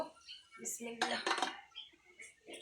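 Coconut-filled momos are set into a pressure cooker pot, with close metallic clinks and clatters of pot and utensils, a denser burst of clanking midway, and faint voices in the background.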